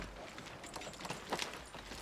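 Horse hooves clip-clop on the ground in a quiet, uneven series of steps, with soft background noise and no talking, the horse working in rough terrain alongside Swiss infantry.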